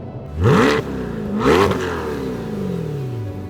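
A deep, throaty 6.2-litre V8 in a Corvette C8 Z06 revs twice in quick succession, each blip rising sharply then falling, before settling back to a rumbling idle close by.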